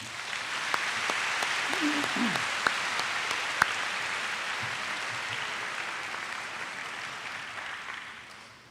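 An upper school awards audience gives recipients a round of applause. The full, even clapping swells at the start, holds steady for several seconds, then slowly tapers off.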